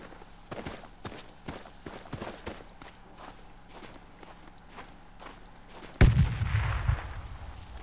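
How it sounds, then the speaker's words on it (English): A grenade bursts in the Project Reality tactical shooter, a sudden loud, deep blast that follows several seconds of light, rhythmic footsteps and distant taps, then rumbles and fades. "I'm gonna get a grenade in that smoke"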